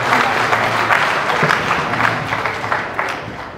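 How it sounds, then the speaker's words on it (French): Applause rises from a congregation at a church wedding, a steady wash of many hands clapping at a moderate distance, with faint voices underneath. "On l'a applaudi"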